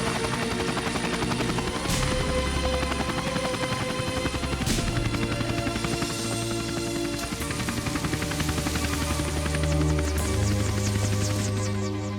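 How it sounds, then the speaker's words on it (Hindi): A helicopter landing in a dubbed action movie scene, a continuous loud throbbing rotor drone with a mechanical whine that fills the whole stretch, backed by a dense soundtrack mix. "जरा बाहर जाकर देखो, हेलीकॉप्टर लैंड हो चुका होगा।"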